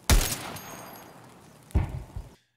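Two distant AGL grenade explosions land far off in an unseen spot in Escape From Tarkov, each a muffled, bass-heavy thump with a rolling rumble, separated by a quiet gap.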